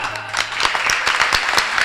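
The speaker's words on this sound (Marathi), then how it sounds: "आणि या टाळ्या कीर्तनासाठी नाहीयेत" An audience claps at a Marathi kirtan, a short burst of dense, mid-distance hand claps of moderate loudness.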